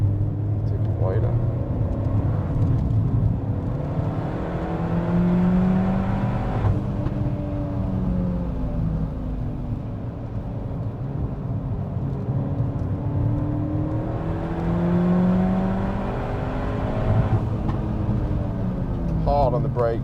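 A Peugeot 308 GTi hot hatch lapping Anglesey Circuit, its engine droning steadily and rising and falling in pitch as it accelerates and brakes through corners, with a driver talking over the noise inside the cabin.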